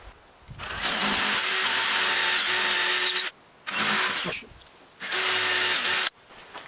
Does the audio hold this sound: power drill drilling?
yes